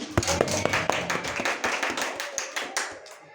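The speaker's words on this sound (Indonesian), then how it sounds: "Tepuk tangan untuk kita semuanya." A high school class claps, with a handful of sharp, distinct hand claps at first and then a quicker, lighter patter, fairly quiet in the room with faint talk behind.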